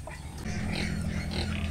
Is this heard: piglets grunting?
yes